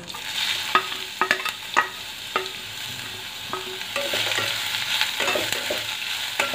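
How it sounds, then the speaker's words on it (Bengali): Chunks of bottle gourd fry in desi ghee with a bay leaf, giving a steady close sizzle broken by a series of sharp scraping stirs of the spatula. "এর মধ্যে একটা তেজপাতা দেব, আর লাউটাকে পুরো দিয়ে ভাজবো।"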